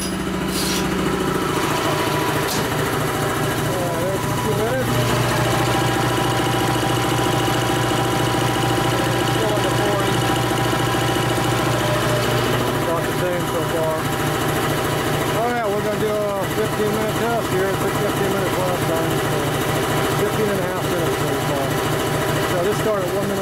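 A Dayton Speedaire 7-1/2 hp air compressor runs continuously during a 2018 Tribodyn oil test, giving a steady mechanical drone with a rapid, knocking pulse throughout.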